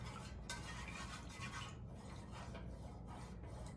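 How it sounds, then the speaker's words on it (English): A plastic stir stick scrapes and rubs along the bottom of a container while blending liquid candle dye, a steady soft rasping close by with no talk. "scrape your stir stick along the bottom to make sure that you're getting all of the dye blended in evenly"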